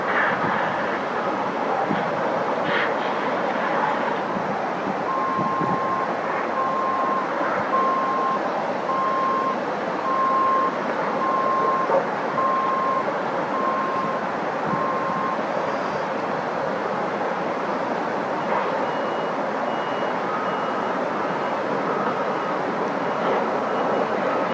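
A dump truck at a construction site sounds a steady run of evenly spaced reversing beeps over a constant background of engine and site rumble, moderately distant.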